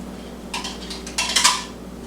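Pre-cooked brown rice being stirred into a casserole pan of boiling liquid, with a spoon scraping and clinking against the pan in short bursts of close metallic knocks, no talking.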